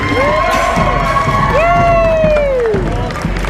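Comic convention audience at a Star Wars versus Star Trek debate cheers and shouts loudly for the Star Wars team, a continuous crowd roar with rising whoops and whistles close to the microphone.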